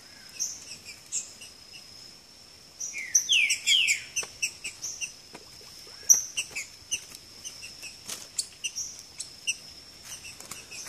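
A green-winged saltator sings in the woods, repeating short bright chirping phrases against a steady high insect buzz, with quick sharp notes scattered throughout.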